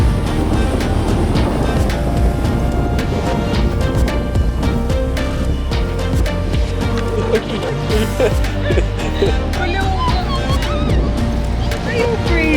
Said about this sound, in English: This is the ocean at night.